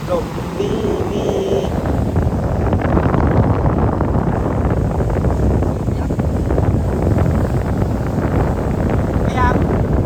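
Strong wind at the seaside roars steadily into the microphone, a loud continuous buffeting rumble throughout, with brief voices and a faint tone audible beneath it.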